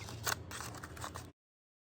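Scissors cut through paper in short crisp snips and crunching slices, close and quiet, for about a second before sudden silence.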